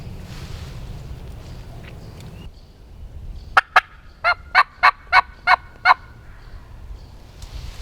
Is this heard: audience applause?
no